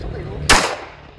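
A single sharp gunshot from a Colt .45 ACP pistol cracks out at a shooting range, loud and close with a short decaying tail, after a quiet lead-in.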